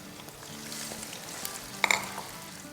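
Blended tomatoes poured into hot oil give a steady frying hiss with a brief sharp crackle burst near the end, close and fairly quiet, with no talk.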